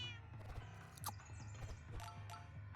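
Cat meows from the Super Auto Pets video game ring out in a quick series of short, fairly loud cries over game music.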